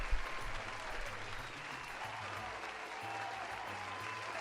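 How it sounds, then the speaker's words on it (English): Faint, steady clapping comes from a small group, likely a live-stream or remote audience at a Dungeons & Dragons homebrew session. It holds an even level throughout under a low background hum. "Let's give them a little round of applause."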